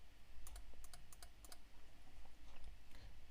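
Keys clack in short bursts of rapid clicks on a computer keyboard while someone sets up a trading chart indicator, the typing faint against a steady low hum with no talking.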